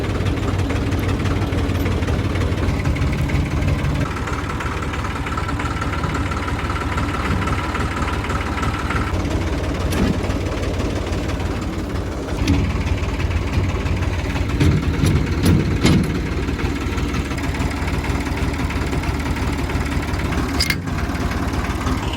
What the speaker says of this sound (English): We might have to ease the tractor forward and back.